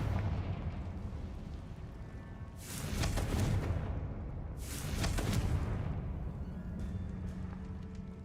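Two heavy, booming blasts from the Confringo fire spell in Hogwarts Legacy, each a burst with a rumbling decay, spaced a couple of seconds apart over quiet background.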